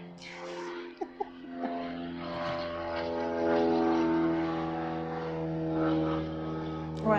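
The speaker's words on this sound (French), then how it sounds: "Je laisse passer l'avion." A propeller airplane passes overhead, a steady droning hum that swells gradually and holds at a moderate level throughout, with a couple of brief clicks near the start.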